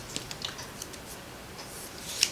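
Scissors snip paper die-cut window curtains in a quiet room with several light, crisp cuts spaced apart and a sharper snip at the end.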